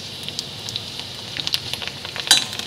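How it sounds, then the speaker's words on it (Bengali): Papads fry in a little oil in a pan, giving a steady soft sizzle with scattered crackles and pops close by and no talk over it. "একটুখানি তেল দিয়ে পাঁপড়গুলো ভেজে নিলাম, সামান্য তেল দিয়ে"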